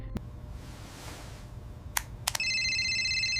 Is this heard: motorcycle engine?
no